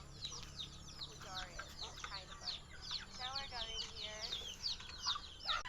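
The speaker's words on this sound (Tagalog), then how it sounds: "pakita ko naman sa inyo yung mga maitim at gray na mga manok dito" Several black and gray chickens cluck in repeated short bursts at close range, their calls overlapping over a faint background hum.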